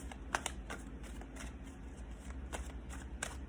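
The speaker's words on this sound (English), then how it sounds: "I'm going to shuffle your cards a little better." Tarot cards are shuffled by hand, giving soft, quiet riffling and slapping bursts at an irregular rhythm, close up, with no talking.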